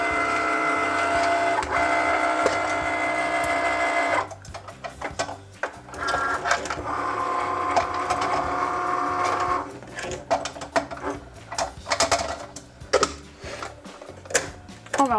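A Cricut cutting machine cuts a gift-card-holder card, its carriage whirring back and forth at close range with steady mechanical buzzing, then shifting into choppier, stuttering strokes with clicks and pauses.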